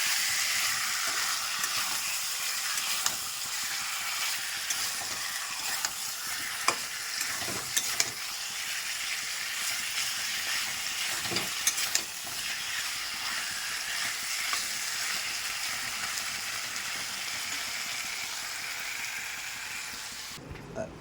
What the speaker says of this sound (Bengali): মাংসগুলো দিয়ে দেবো আর সুন্দর করে নাড়াচাড়া করে দেবো